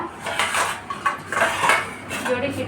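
Spoons being put away at home, with quick, bright clinks and clatters of metal cutlery in close succession, near and moderately loud, and faint talk underneath.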